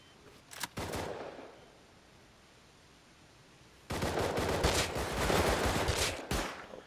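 An auto turret in Rust fires loud rapid bursts: a short volley, a pause of steady background noise, then a longer sustained stream of gunfire that cuts off near the end.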